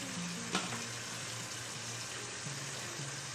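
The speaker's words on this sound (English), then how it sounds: "You can hear it hasn't sizzled as hard as it was. So we're going to flip it over." Fish searing in a hot frying pan gives a steady, moderately loud sizzle with a soft crackle near the start, a low hum running beneath it, and no talking.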